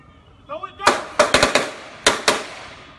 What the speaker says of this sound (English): He's shooting out with them folk.